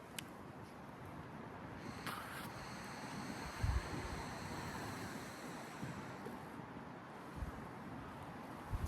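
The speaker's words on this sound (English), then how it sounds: "it's windy right now" Broadband wind rushes steadily over an outdoor scene, buffeting the microphone with occasional low thumps and gusts.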